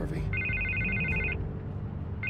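A telephone rings with a steady electronic trill in the Telltale Batman video game, two ring bursts over a low background music bed with voices in the scene.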